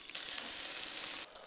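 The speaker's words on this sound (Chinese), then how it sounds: "加入菌菇炒至软身" Mushrooms stir-fry in a wok after garlic slices are fried fragrant, giving a steady, close hiss of sizzling for over a second before it drops away.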